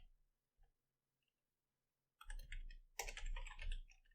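After near silence, a burst of rapid computer-keyboard typing starts, close and clicky, with a brief pause before a second flurry of keystrokes.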